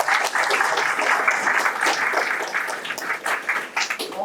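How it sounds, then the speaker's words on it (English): A crowd at an evening Airbnb Q&A panel in a shared office space gives a round of applause, a lively uneven clatter of many hands with fluctuating loudness from start to finish. "so everybody give them a round of applause"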